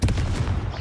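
Arresto Momentum spell cast in Hogwarts Legacy: a loud, brief burst with a sharp onset and rumbling, percussive crackle trailing off, close and dominant.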